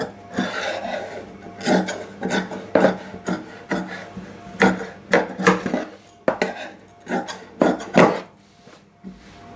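Scissors cut through uniform coat fabric in a run of separate rasping snips and scrapes, each short and fairly close, with brief gaps between them and no talking.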